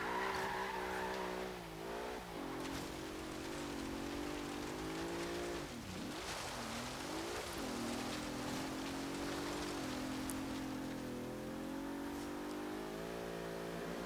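A 2016 Bentley Bentayga in Forza Horizon 3 on an autocross course, its engine revving and shifting pitch while tyres skid and hiss almost continuously, loud and close throughout.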